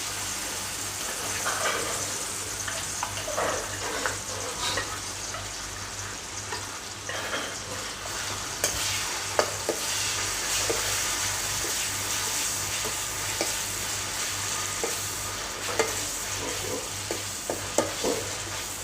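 Vegetarian pork chili paste being stir-fried in a pan, a continuous close sizzle and hiss with scraping stirs and occasional clatters, no talk.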